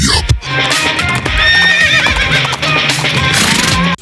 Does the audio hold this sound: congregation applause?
no